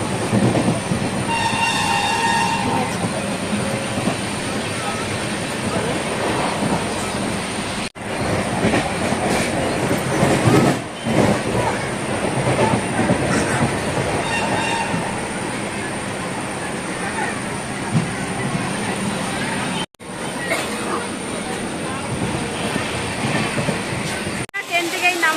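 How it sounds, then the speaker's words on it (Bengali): A crowded passenger train heading to Howrah station rumbles along its rails with rhythmic clickety-clack, a horn sounding and wheels squealing, while passengers talk over the steady noise of the moving carriage. "আমরা ট্রেনে চেপে পড়েছি"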